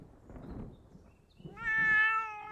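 A cat lets out a single drawn-out, tonal meow close by, preceded by faint low rustling and handling noise.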